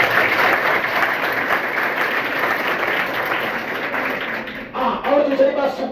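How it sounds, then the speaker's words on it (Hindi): Audience applause for the Vishwakarma family fills the room, steady dense clapping close by that continues without pause and tapers slightly near the end as voices begin. "एक बार विश्वकर्मा परिवार के लिए इसलिए ताली बजानी है"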